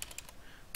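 Quiet clicks of typing on a computer keyboard while entering an FTP server address: four quick keystrokes in a row, a pause, then one more.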